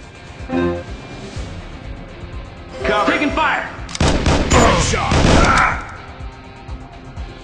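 Gunfire in the Street Boss: Shootout mobile game comes as sharp shots and rattling bursts that build into heavy volleys midway. Clipped voice callouts sound over and between the shooting.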